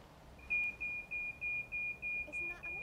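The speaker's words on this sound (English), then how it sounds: "And the bleeper will only bleep if those 2 wires make a contact." A solar-powered alarm circuit's bleeper sounds during a test run: eight short, evenly spaced high electronic beeps in a steady rhythm, clear over a quiet background.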